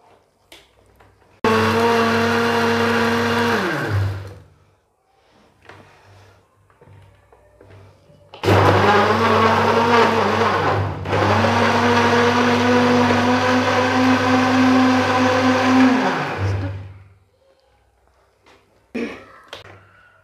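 A kitchen blender grinds strawberries, banana and sugar for a milkshake in two loud bursts, a short one and then a longer whirring run, each spinning up and winding down, with quiet gaps between.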